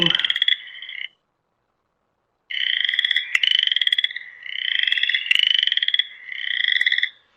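Chorus frogs give rising, raspy trills like a finger dragged along a comb, close and clear, in repeated bursts after an opening call and a silent gap.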